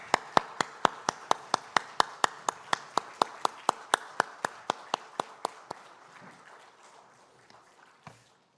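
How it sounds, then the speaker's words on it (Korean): A church congregation claps in unison during a Sunday worship service, a steady run of crisp, evenly spaced claps at a brisk beat that stops abruptly, leaving a faint quiet room. "하나님께 영광의 박수 올려드리겠습니다"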